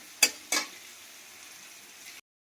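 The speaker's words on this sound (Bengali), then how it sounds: "এখানে মশলা দুটো কষা হচ্ছে" Spices frying in oil in a pan for a Bengali fish curry with eggplant and potato. A low steady sizzle runs throughout, with two brief louder stirring scrapes near the start, then the sound cuts off abruptly.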